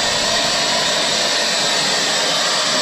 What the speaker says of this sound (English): we're going to ramp up to about 100 RPM on the chuck